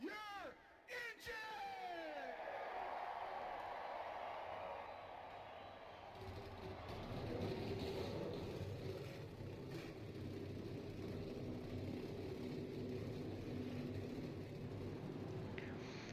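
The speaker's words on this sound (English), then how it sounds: "Drivers, start your engine!" Race car engines starting up at Kyalami in a NASCAR-style racing video game, a low rumbling roar that swells and keeps going, following a shouted voice and a burst of crowd noise.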